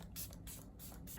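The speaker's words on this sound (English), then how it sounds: "I'll just finish off by spraying my face with this Dalba First Spray Serum" Dalba First Spray Serum misted onto a face in quick, soft pumps, several short hissing bursts spaced fairly evenly, close and quiet with brief gaps between sprays.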